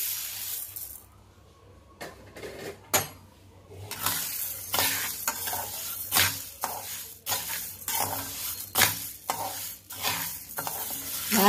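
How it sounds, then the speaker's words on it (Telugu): Urad dal (black gram) dry-roasting in a pan on the stove, a steady scraping stir with dry rattling and faint sizzle, broken by sharp spoon knocks against the metal and a short quieter lull early on. "మినుములు వేయించుకోవాలండి"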